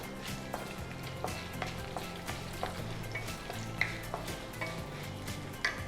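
Homemade turmeric powder frying in a pan for Andhra-style pulihora, with a steady close sizzle and regular scrapes and taps of a spoon stirring against the pan throughout.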